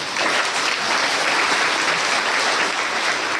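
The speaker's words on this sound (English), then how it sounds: "We clap anew." Loud, continuous audience applause at a spiritual gathering with fellow practitioners, thick and even from start to finish with no voices.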